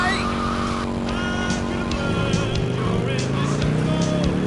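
Car engine and tire noise from the video game GTA Vice City, a steady loud motor drone with rising revs and occasional skids, with someone talking over it throughout.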